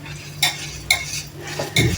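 A spoon stirs jalebi batter in a bowl, giving three separate scraping clinks at a steady pace, close and clear, with no voices.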